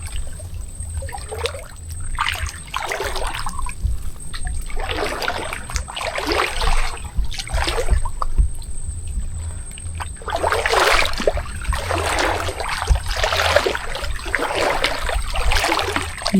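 Water splashes and trickles into a small boat through a hole on an abandoned fishpond, a loud, steady wash of rhythmic sloshing surges close by, with a faint high whine throughout.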